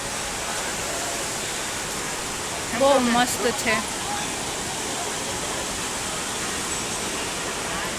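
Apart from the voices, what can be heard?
water falling from above at a waterfall near Mussoorie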